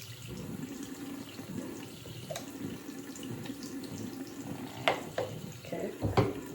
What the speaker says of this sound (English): So I just put water on my face and then I just wash it